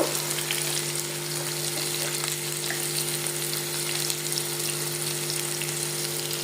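A pan of food fries with turmeric and cumin powder in a loud, even, close sizzle, stirred now and then, with a faint steady hum underneath and no speech.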